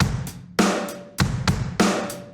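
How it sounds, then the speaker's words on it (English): A programmed MIDI drum kit beat in Logic: punchy kick and snare hits with bright cymbal wash, repeating at a steady mid tempo with no voices. "For the drums, this is all just MIDI drums in Logic."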